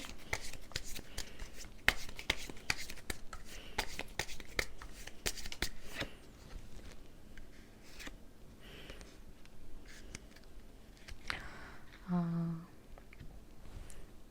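A tarot deck is shuffled by hand during a reading: rapid, close, crisp riffling and card slaps in quick bursts, easing off toward the end with a faint voice in the background.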